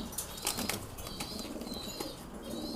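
Pigeons kept in a loft flap their wings in a few quick soft bursts near the start, over a low steady background with faint fluttering and rustling throughout.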